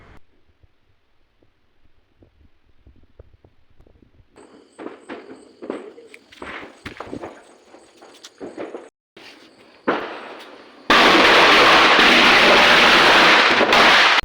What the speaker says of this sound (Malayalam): കോമ്പലപ്പടക്കം പൊട്ടിക്കാൻ പോണ തന്ത്രപ്പാടാണ് ഈ കാണുന്നത്